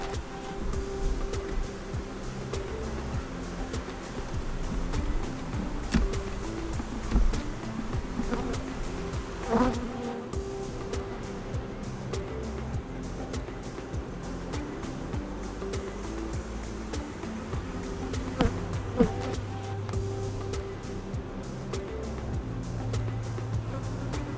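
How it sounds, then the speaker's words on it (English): A steady, dense buzz of a honey bee swarm inside a hive box drones continuously at close range, with occasional faint knocks and shifts in the background. "There's a ton of bees inside the box on the side still"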